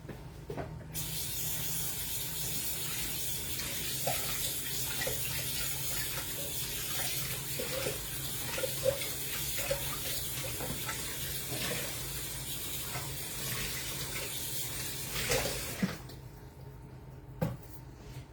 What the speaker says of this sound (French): On doit laver le moule sous l'eau très chaude avant chaque utilisation.